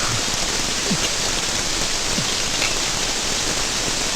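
Heavy rain falling steadily as a dense, continuous hiss of drops on surfaces, loud and unbroken throughout with no voices.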